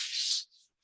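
Sanding of a wood surface, a broad hissing rub that runs steadily for about half a second, then fades to a softer pass, a brief pause and another short stroke, close and fairly quiet.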